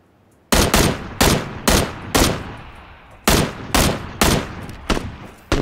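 Loud, close gunfire in the video game PUBG, eight or so sharp single shots in an uneven rhythm, each ringing out briefly before the next, with no talk.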